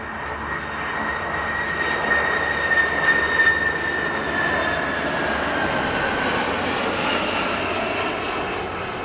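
A fixed-wing aircraft engine roars steadily and loudly for the whole stretch, a dense broadband rush with a thin whining tone, swelling slightly midway without ever fading.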